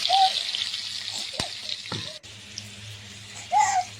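Green chilies sizzle in hot oil in a pan, with a steady hiss and crackle close by, mixed with a few clinks and scrapes of utensils and brief louder spatters.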